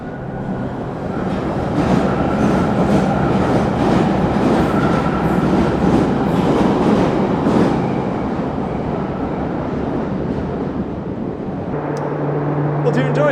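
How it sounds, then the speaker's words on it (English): A London Underground train rumbles past nearby with a steady roar and rhythmic clatter, fading toward the end as it pulls away. "if we wait long enough, there'll be another train along"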